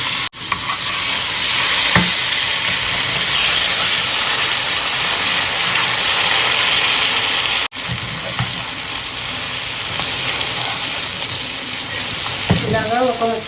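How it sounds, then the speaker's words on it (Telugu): A piece of spicy fish frying in hot oil on a tawa over a low gas flame, a loud, steady sizzle that continues throughout with a couple of brief clatters. "ఇలాగా ఒక ముక్క వేసుకొని లో ఫ్లేమ్లో పెట్టుకొని గ్యాస్ని ఫ్రై చేసుకోవాలి"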